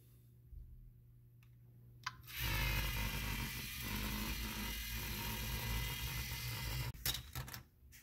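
A medium motor attachment on a FLL robot built for City Shaper missions runs with a loud, steady mechanical whir that starts after a quieter stretch and continues to the end with a few brief jolts near the close.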